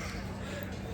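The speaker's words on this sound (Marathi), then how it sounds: "कावळा कावळा कावळा" A crow caws against a busy, noisy background at Siddheshwar temple in Solapur, with voices murmuring nearby.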